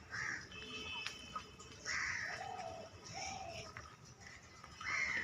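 Birds call repeatedly near a Ganges ghat by an old tree and riverside temples under a cloudy sky: a few loud, fairly close cries in bursts over a steady outdoor murmur.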